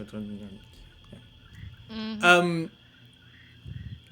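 Voice imitating the croaking chatter of Bullywugs, frog-like creatures, a short burst of rising, warbling croaks in the middle after a few faint murmurs.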